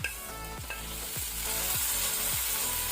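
Onions fried to golden brown sizzle steadily in a pan as tomatoes go in, a loud continuous crackle with repeated stirring scrapes, no voices.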